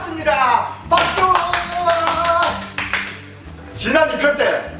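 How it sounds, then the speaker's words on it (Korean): A group claps in bursts, with two short rounds of applause separated by a pause, loud and close, mixed with voices cheering over it. "박수!"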